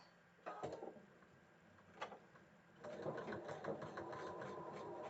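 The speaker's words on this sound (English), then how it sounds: "Coming right down to where my top stitching was. Stitching right across there." A sewing machine stitches across a quilt block, running in a short burst, pausing, then settling into a steady, continuous mechanical whir at moderate volume with no talk over it.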